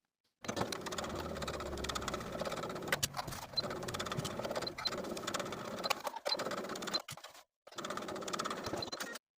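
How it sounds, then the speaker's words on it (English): A sewing machine edge stitching around the bottom fold of a dress sleeve hem, running in steady whirring bursts with brief stops between passes, close and clear with no voices. "Then take it to your machine and edge stitch close to that upper inner fold all the way around"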